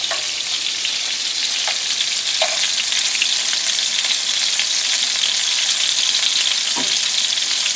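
Sriracha chicken meatballs fry in a pan over high heat, giving a loud, dense, continuous sizzle with faint pops and a few soft utensil taps, close by and steady, with no talking.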